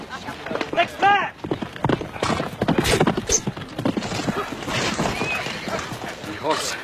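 Horse hooves clip-clopping at a gallop with a sharp neigh early on, close and loud, with raised voices and commotion over the battle-camp scene.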